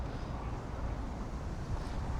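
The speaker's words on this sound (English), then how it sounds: "See, just the wind is so strong at this very moment." Strong wind buffets a drone's microphone above Welling in the London Borough of Bexley, producing a loud, constant low rumble and roar that fills the whole stretch with no other sounds.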